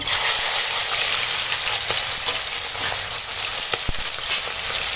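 Fish pieces rubbed with salt and turmeric fry in hot oil with a loud, steady, close sizzle that runs throughout, with a few sharp pops and spatters.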